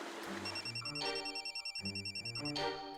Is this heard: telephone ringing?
yes